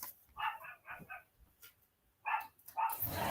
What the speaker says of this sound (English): Let me let my dog in.